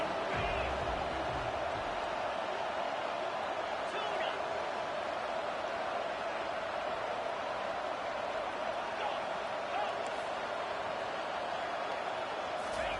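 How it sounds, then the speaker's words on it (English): Steady roar of a football stadium crowd during a Syracuse versus Iowa State game on third down, a dense, continuous wash of noise swelling slightly, with a commentator talking over it. "Decibels rising as the crowd gets behind this defense on 3rd down"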